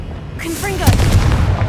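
A Confringo fire spell blast in the video game Hogwarts Legacy: a quick rising magical whoosh swells into a loud, booming fiery burst that rumbles out.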